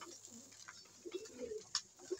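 Pigeons coo softly in a quiet space, a few low, rounded calls scattered over about two seconds with faint background hiss.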